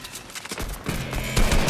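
Gunfire in a Fortnite shootout: a quick burst of overlapping shots that builds from scattered cracks into a denser, louder volley by the end.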